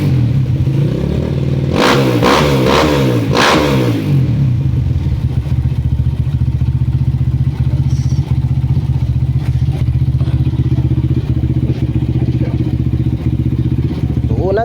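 Motorcycle engine started after a mechanic's assembly, a loud close idle with a few revving bursts early on, then a steady rumbling run under background talk.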